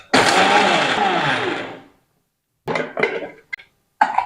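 A mixie grinder whirs loudly, powdering roasted peanuts and flax seeds for nearly two seconds, then spins down; after a pause come several short, sharp bursts of grinding.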